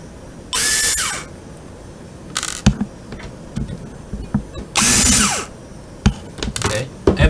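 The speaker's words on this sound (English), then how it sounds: "After you remove these three screws" A power driver backs screws out of the rear panel of a QNAP TS-453BT3 NAS in two short whirring bursts, with scattered clicks and handling noises between them, close to the microphone.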